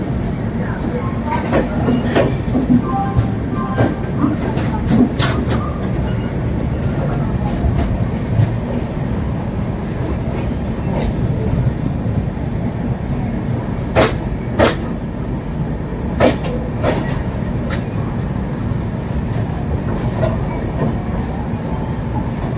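Howrah–Puri Shatabdi Express (12277) running on rails, a steady loud rumble of the moving train with sharp rhythmic clicks and clatter from the wheels passing rail joints throughout.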